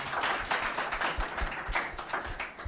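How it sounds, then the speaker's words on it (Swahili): Audience clapping at a Kiswahili arts performance at St. Mary's school in Kawangware, a steady burst of many hands applauding together at moderate volume, with no talk over it. "Wapige makofi."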